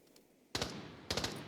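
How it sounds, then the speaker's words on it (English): Two quick bursts of HK gunfire in the video game Armory, each a short rapid volley of sharp, fairly distant shots separated by a brief pause. "Now I heard the gunshots of an HK"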